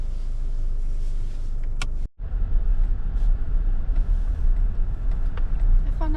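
A car drives slowly around a campground in autumn, a steady low engine and road rumble from inside the cabin, broken by a brief sharp dropout before the drone resumes.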